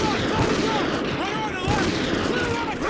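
Gunfire from a remote sniper shot and room breach in Call of Duty Ghosts, dense rapid shots and impacts packed closely together over steady loud game ambience and music, with no pauses.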